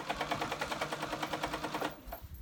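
A sewing machine runs in a fast, even rapid-fire stitch while basting a hood onto a cozy snuggle blanket, close and steady before slowing and stopping near the end.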